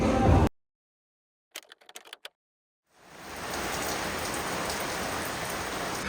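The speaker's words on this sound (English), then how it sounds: "It's raining. It's absolutely chucking it down. I can hear the rain from in bed." Heavy rain pours down steadily outside a hotel room, a broad continuous hiss that swells in after a brief burst of noise and a few scattered ticks, then holds loud and even.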